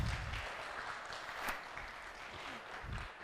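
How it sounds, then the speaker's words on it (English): Audience applause at a school arts competition event, a steady wash of clapping throughout at moderate distance with no talk over it. "So Miss Erica Martin, please give her a round of applause."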